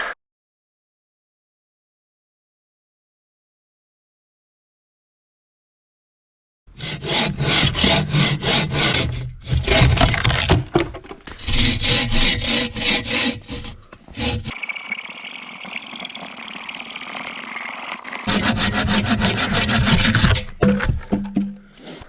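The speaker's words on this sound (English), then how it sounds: "Oh, it's a lot of sawing." After silence, a hand saw rasps back and forth through wood in steady rhythmic strokes, close and loud, with brief pauses between bursts.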